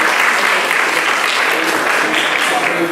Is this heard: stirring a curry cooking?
no